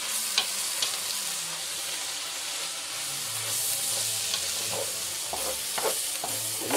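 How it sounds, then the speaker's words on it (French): Onions frying and browning in a pan, a steady close sizzle with occasional light scrapes of stirring. "Et on va continuer un peu à les faire colorer comme ça."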